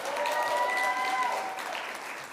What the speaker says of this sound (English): let's give another big round of applause for our nominees and our finalists